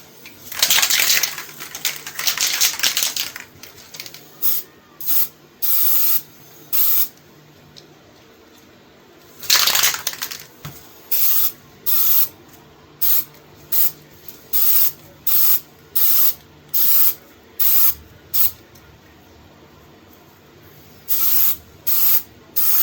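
Short bursts from an aerosol can lay a light coat of finish on a vintage knife, a long hiss at first and then a steady series of brief, evenly spaced sprays, close and crisp.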